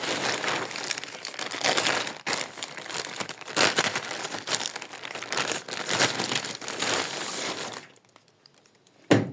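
Packaging from a parcel from China crinkling continuously and loudly close up as it is unpacked, with rustling and tearing bursts that stop near the end before one final crackle.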